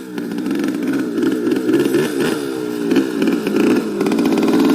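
Motorcycle engine revving and shifting up into second gear, a loud buzzy engine note that climbs in pitch, drops briefly at the shift and climbs again, with no talk.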